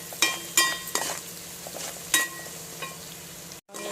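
Onions frying in a pan for mutton curry, a continuous close sizzle broken by several sharp clinks and scrapes of a spoon stirring against the pan.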